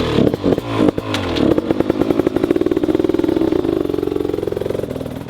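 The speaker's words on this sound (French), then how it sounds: "monsieur Margaz qui s'amuse avec sa nouvelle bêta" A new Beta motorcycle ridden on private ground: a single engine is near and loud, first some sharp blips and clatter, then a steady rapid pulsing drone that holds as the bike runs on.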